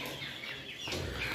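A flock of eleven domestic turkeys calls close by with short, clucking yelps and a rising call near the end.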